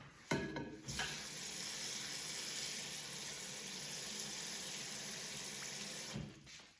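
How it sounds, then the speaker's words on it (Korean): Water runs in a steady, rushing stream into a pot holding rice cakes, starting with a few clatters, then flowing evenly for several seconds before stopping abruptly. "여기다가 떡을 넣고 물을"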